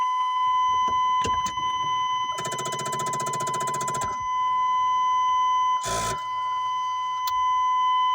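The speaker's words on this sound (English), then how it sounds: "Got a buzzer." A car's ignition key buzzer sounds while a new key switch is fitted: a steady high buzz runs throughout, broken by a harsher sustained burst and a short blast, with faint clicks between.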